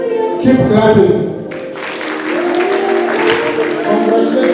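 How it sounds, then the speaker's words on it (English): Audience applause at a graduation ceremony in Kenya, steady clapping that carries through the whole stretch and mixes with talk and music from a loudspeaker. "Keep clapping."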